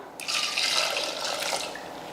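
Water is poured from above into a pot holding toor dal and four tomatoes for paruppu rasam, a steady close splashing rush that starts suddenly and runs for about two seconds.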